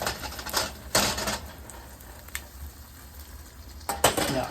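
Tomatoes go into a pan of cooking eggs for Chinese tomatoes and eggs, a few clattering metal-on-pan scrapes and knocks over a soft, steady sizzle, fairly close and moderately quiet.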